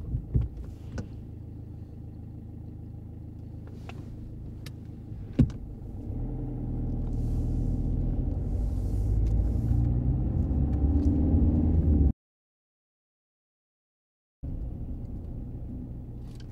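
Car driving along a driving test route, a steady engine and road rumble from inside the cabin that builds gradually, then cuts out briefly before resuming.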